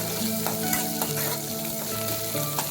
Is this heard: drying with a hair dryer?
no